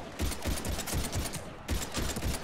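Rapid bursts of gunfire from a shooter in Mass Effect 3, a steady run of sharp repeated shots with a brief pause midway before firing resumes, loud and close.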